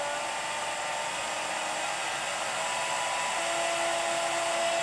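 Steady high-pitched whine of a CNC router spindle motor running up to 24,000 RPM on a homebuilt router table, a constant broadband hum with a tone that rises slightly near the end, with no talking.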